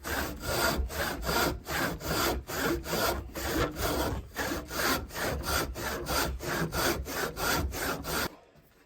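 A walnut board is resawn by hand, with roughly twenty rhythmic back-and-forth saw strokes rasping loudly through the wood up close before the cutting suddenly stops.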